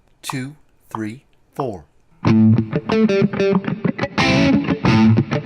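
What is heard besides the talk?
distorted electric guitar lick in sixteenth notes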